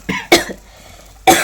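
Three sharp coughs burst out close and loud, two in quick succession and a third after a short pause, set off by chili and coriander powder frying in a kitchen.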